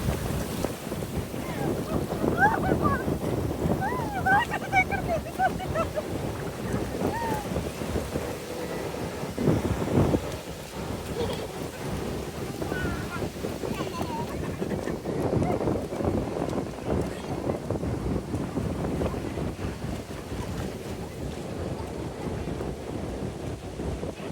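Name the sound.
sea waves breaking on a beach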